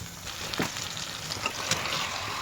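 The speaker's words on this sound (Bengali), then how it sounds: "এবার দিয়ে দেওয়া হবে চিকেনটা।" Marinated chicken, coated in salt, turmeric and mustard oil, drops into a pan of frying coriander masala, giving a steady close sizzle with a few soft stirring scrapes and no talk.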